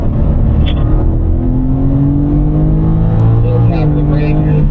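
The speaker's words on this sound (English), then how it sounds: "Resting my foot on the throttle, accelerating off." A BMW M4 accelerates hard on the Desert Palm race circuit, its engine note rising loudly and climbing steadily in pitch through the gears, close and dominant.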